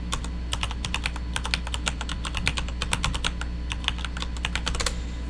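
Rapid typing on a computer keyboard, with dense irregular clicky keystrokes in quick bursts over a constant low hum, close and fairly quiet, no talking.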